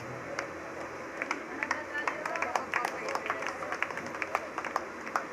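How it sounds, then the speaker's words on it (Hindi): Scattered, sparse hand claps from an audience at a devotional bhajan gathering at Katesara Dham, sharp and fairly close, with a murmur of voices in the background. "जोरदार तालियों के साथ स्वागत।"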